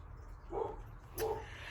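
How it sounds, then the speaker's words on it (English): A dog barks twice in the background of a quiet indoor room, the two faint, muffled barks spaced about half a second apart over a low steady hum. "I'm sorry if you hear a dog barking in the background."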